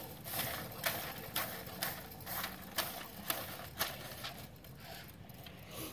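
Roll of labels wound backwards on an I-Race Jr. label applicator, giving a steady mechanical whir broken by a regular series of sharp clicks or ticks about every half second, close and fairly quiet.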